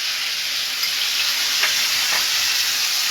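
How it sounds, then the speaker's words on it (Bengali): Finely chopped tomatoes hitting hot oil in a pan for a North Indian paneer dish, giving a loud, steady, close sizzle and hiss that stays constant throughout. "ওটাই কুচি কুচি করে টমেটো যে কেটে রাখা দিয়ে দিলাম"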